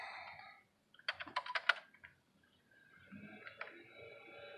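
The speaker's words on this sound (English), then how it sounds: "Let's just see what typing on this thing is like." Short bursts of clicky keystrokes on a Keyboard.io keyboard, a quick flurry followed by a few scattered taps, close and quiet in an otherwise still room.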